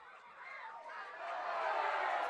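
A soccer crowd at a Vermont Green FC versus Boston City FC match lets out a rising murmur of disapproval, faint and distant, swelling steadily over a couple of seconds.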